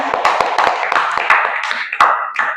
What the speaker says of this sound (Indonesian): Tepuk tangan untuk kelompok kalian.